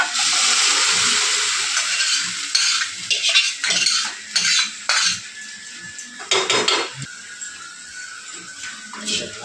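Goat blood being poured onto browned onions in a pan and stirred, with a spoon scraping and clinking against the metal in an irregular rhythm, wet swishing underneath, no talking.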